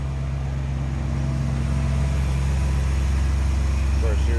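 A 1940 Buick Special two-door street rod with a 350 V8, HEI ignition and electric fan, idles smoothly and steadily with a low, even rumble close by, running continuously under quiet background sound.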